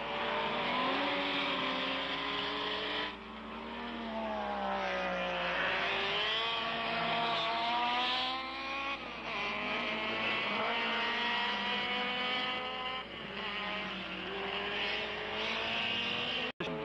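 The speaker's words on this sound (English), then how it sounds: "Even Kurosawa, skilled as he is in cornering, has a tough battle ahead now that a dent has appeared in the perfect team play of the rotary team." 1972 race cars, Nissan Skyline GT-R and Mazda Savanna RX3 rotaries, racing at Fuji Speedway: a sustained high-pitched engine wail with repeated rising and falling revs as cars pass, under continuous race commentary.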